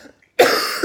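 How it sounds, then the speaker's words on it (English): A single sharp cough from a man who is sick, loud and close after a moment of near silence, with a second short cough burst at the end. "so there's going to be a bit of coughing"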